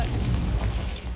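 A Confringo spell explosion in the Hogwarts Legacy video game, a short heavy booming blast with a rumbling low end filling the whole moment, no speech.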